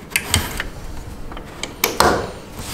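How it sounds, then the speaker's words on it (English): A 2.5-inch Seagate 2.4 TB SAS hard disk is pulled from a drive bay of a Cisco APIC L3 server, giving a few close plastic and metal clicks and a sliding scrape, no talk. "it's normal spinning disks, so you can remove them like this"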